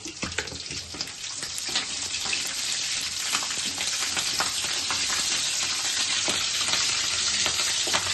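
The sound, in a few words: green chillies and fennel frying in a pan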